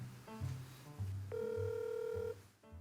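A telephone rings on an outgoing call, a single steady electronic ringback tone over a low background hum, placed from a home kitchen during breakfast cooking.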